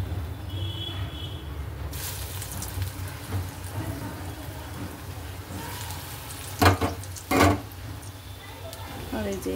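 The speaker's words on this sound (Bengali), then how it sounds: "আর এটা পরেতে ভেজে নিচ্ছি" Lentil fritters (dal bora) fry in a pan with a steady sizzle and crackle, broken by a couple of louder bursts as pieces are moved or added, while a person talks over the cooking.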